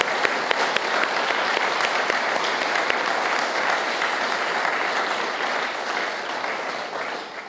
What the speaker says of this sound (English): Please join me to give them a big clap.